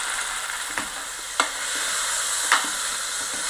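Continuous sizzling and bubbling from a lemon and date pickle mixture boiling in a hot pan, punctuated by a few light taps of a spoon stirring.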